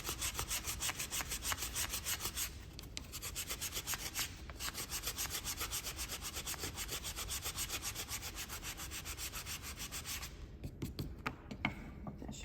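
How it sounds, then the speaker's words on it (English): Sandpaper rubs paint off a wooden square wreath frame in quick, steady back-and-forth strokes, close and continuous with brief pauses, no talking. "Just gonna sand that off."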